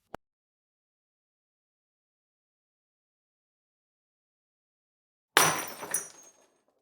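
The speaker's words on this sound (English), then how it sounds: "I dropped a glass. Is it shattered? Yes, it's in pieces." A faint click, a long silence, then a drinking glass hits the floor and shatters nearby with a bright crash and a short scatter of tinkling shards that dies away.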